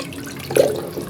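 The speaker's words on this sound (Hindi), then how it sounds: "तो यहाँ पे मैं 3 से 4 गिलास पानी डालूँगी" Three to four glasses of water poured into a cooking pot of beef nalli nihari gravy, a short splashing gush of about half a second.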